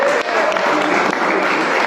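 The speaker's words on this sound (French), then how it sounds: "Vous pouvez l'applaudir." Audience applause at a Rotary Club of Dax handover ceremony, a dense burst of clapping filling the room for about two seconds, with a faint voice mixed in underneath.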